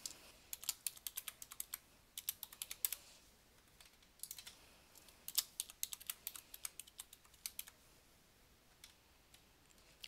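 Computer keyboard typing up close, quiet clusters of crisp key clicks in irregular bursts with brief pauses, entering a new password, with no speech.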